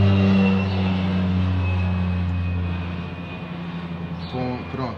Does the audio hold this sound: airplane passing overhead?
yes